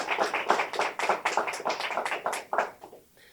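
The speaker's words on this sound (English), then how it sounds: "Please give them a big round of applause." Applause from a modest audience at a county executive's housing legislation signing ceremony, a few seconds of steady, close clapping that tapers off at the end.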